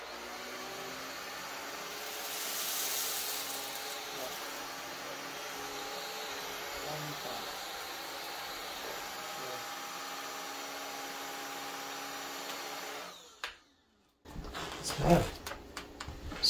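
A Shark cordless Pet Plus stick vacuum runs on its bare floor setting with a steady, loud motor whine and airflow rush, then briefly cuts out and restarts with bumps near the end.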